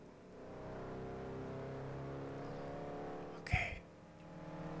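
Car engine in the racing game Test Drive Unlimited 2, a steady humming drone under light road noise, broken by a short sharp crash or thud near the end before the engine carries on.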